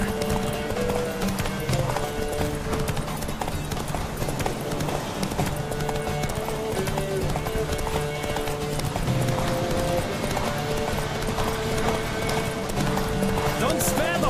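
Horses gallop in the Witcher 3 video game, rapid clip-clop hoofbeats running continuously with occasional neighs, mixed with game music and character voices talking over them.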